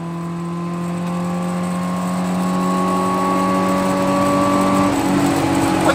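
A truck engine held at steady high revs in fifth gear in four-wheel-drive low range at about 55 mph, its droning harmonics rising slightly before dropping off near the end as the throttle eases.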